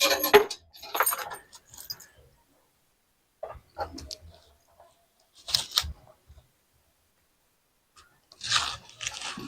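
Metal keys jangle in several short bursts with quiet gaps between, close and handled, as someone searches through them.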